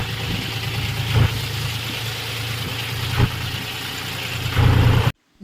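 A tractor engine running steadily at idle on a rainy day near a flooded river crossing, a loud continuous low rumble with a few brief surges, close by and without talk, cutting off at the end.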